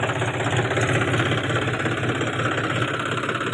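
A tractor engine on a potato farm runs close and loud with a constant, rapid knocking chug and rattling vibration that hold steady throughout, with no talk over it.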